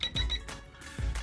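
A multimeter's continuity beep sounds while testing a car alternator for a wind generator build, heard as short, fairly quiet electronic tones repeating in an uneven rhythm over low thumps of handling.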